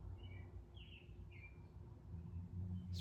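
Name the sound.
bird singing outside in springtime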